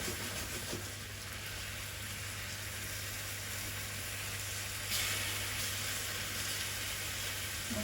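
Food sears and caramelizes in a pan over fairly high heat, giving a steady, loud sizzling hiss that runs unbroken and alone.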